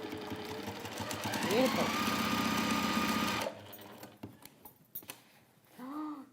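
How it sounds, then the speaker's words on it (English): A sewing machine stitches down both sides of a lined origami bag, a steady loud mechanical whirr for about three seconds that then stops, followed by quieter handling sounds and a brief spoken word. "I'm going to stitch down both sides and then stitch the seams there"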